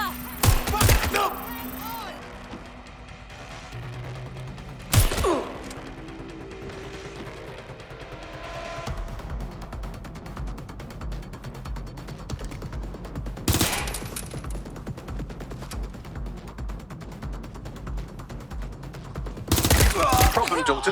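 Gunfire crackles in Watch Dogs: Legion, sharp loud bursts at the start, around five seconds, near thirteen seconds and again at the end, separated by quieter stretches of game ambience and intermittent talk.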